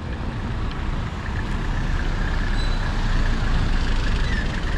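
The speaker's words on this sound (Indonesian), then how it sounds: "ini bus yang pergi Sekupang, tapi saya nggak akan naik mungkin ya" A bus idles and rumbles at the Batam bus terminal, a steady, close engine drone with a faint background hiss throughout.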